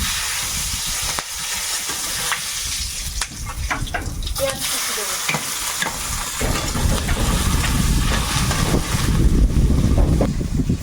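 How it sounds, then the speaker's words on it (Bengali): Wind gusts in through an open window of a kitchen in the Sundarbans, a steady rushing hiss that swells louder toward the end, with a few faint clatters underneath. "এই জানালা দিয়ে হু করে হাওয়া আসছে"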